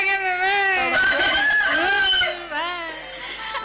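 A person on stage in a comic Uttara Karnataka village drama imitates a chicken, a voiced crowing and clucking call with wavering pitch lasting a few seconds, close and loud.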